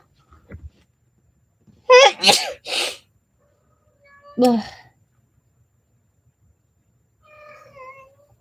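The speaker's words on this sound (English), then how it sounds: "Oh my god, I have to sneeze." A single sharp sneeze from a woman, preceded by a short breathy buildup, then a soft voice afterward and a brief meow near the end in a quiet room.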